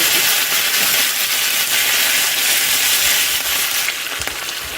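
Mustard seeds and curry leaves frying in hot oil for a paruppu kulambu tempering, a dense, loud, continuous crackling sizzle close up, softening slightly near the end, with no voices.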